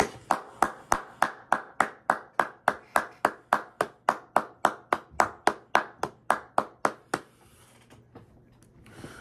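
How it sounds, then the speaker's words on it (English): A classroom of students claps together in a brisk, steady rhythm of about twenty-five sharp claps over seven seconds, then stops and the room falls quiet. "Can we please get a 10-second clap for the soldiers winning the battle of"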